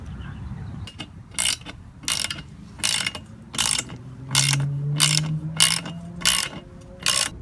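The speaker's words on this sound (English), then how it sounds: "I'm going to use this jaw puller that I borrowed from AutoZone" A borrowed jaw puller is cranked to pull a polyurethane suspension bushing from a lowered subframe on a 2005 Mini Cooper S R53, giving steady, close ratcheting clicks in an even rhythm with a faint rising creak midway.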